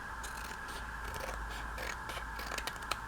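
Scissors snipping through folded paper envelope pockets, a quiet run of close, dry scraping cuts with a few sharper snips near the end.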